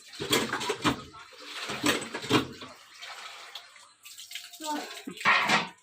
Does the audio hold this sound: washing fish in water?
yes